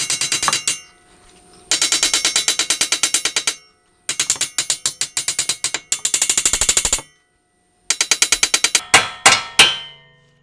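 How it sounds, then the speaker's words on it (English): Rapid, sharp metallic hammer blows strike a ball joint on a Scion FR-S car's suspension, coming in several quick bursts separated by short silences and ending with a few slower, heavier hits. "Leave the nut on, hit this ball joint area, it should pop out."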